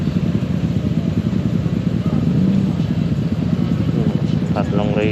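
Raider motorcycles racing along Molino Boulevard, heard from a moving Honda PCX160: a loud, steady engine drone with wind rumble throughout, and a voice briefly near the end.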